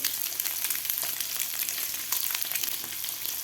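Boiled eggs frying in hot oil with red chilli powder, a steady dense sizzle with faint stirring clinks, close and continuous, no talking.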